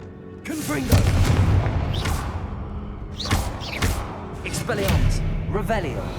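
Confringo blasting spells explode in quick succession inside a tomb in Hogwarts Legacy, several booming impacts with whooshing bursts, loud and close over a rumbling backdrop.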